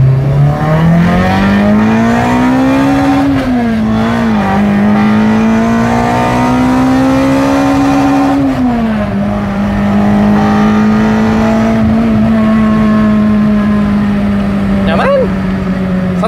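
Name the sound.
Toyota Corolla 2ZZ engine revving, accelerating from first gear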